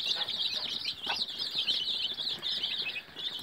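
A broody hen with her chicks: constant high peeping from the chicks, with a few low clucks and a brief flutter underneath, nearby and moderately quiet.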